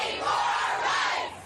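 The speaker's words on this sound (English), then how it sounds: "with angry crowds squaring off with jubilant supporters over the historic ruling" Angry crowd of protesters over an abortion ruling, a dense roar of many shouting voices close by, steady and loud for the full moment without any single voice standing out.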